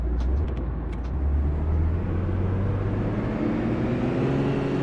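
A Volvo XC70 engine in City Car Driving drones and rumbles steadily with the rev limiter removed, its pitch climbing slightly as it revs, with a few brief high clicks at the start.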